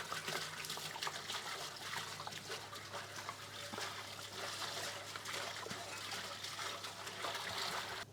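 Water runs into a cooking pot, with a steady splashing trickle, to be salted, spiced with garam masala and boiled for goat intestine (boti) biryani. The flow is continuous and moderately loud for the whole stretch, with no talking.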